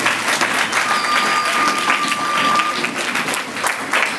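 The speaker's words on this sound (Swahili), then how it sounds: "Piga makofi kwa Mungu wako." A church congregation claps steadily and loudly throughout, a dense continuous wash of applause with faint voices mixed in underneath.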